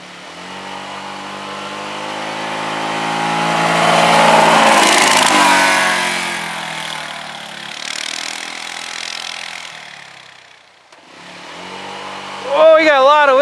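A 2009 Yamaha Rhino 700 side-by-side engine climbs hard in low gear and holds a loud buzzing drone at the rev limiter, with a brief dip and a stuttering rise near the end, while voices speak over it.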